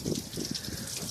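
Clear water from a household garden hose gushes and splashes as it is pumped through a car heater core, a steady close rushing flow with bubbling pulses.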